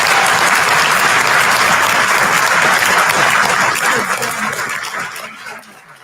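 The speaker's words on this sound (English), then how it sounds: "Let's give a warm round of applause to our Attorney General" A town hall audience at Western Michigan University in Kalamazoo applauding Attorney General Dana Nessel, sustained loud clapping from a large crowd that tapers off toward the end.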